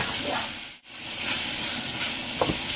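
Ham frying in butter in a pan, a close, steady sizzling hiss with a brief dip as it is stirred and a small crackle near the end.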